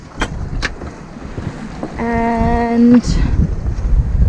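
Sailboat under headsail in squally wind, steady wind roar and rushing water with a hull creak or tonal hum mid-clip, someone briefly speaking over it.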